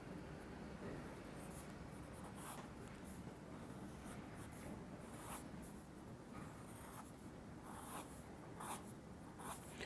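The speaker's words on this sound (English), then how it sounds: "I'm drawing her hair behind her ears." A pencil sketches quick gestural hair lines on paper, a faint, continuous scratching with repeated short strokes, heard alone and close.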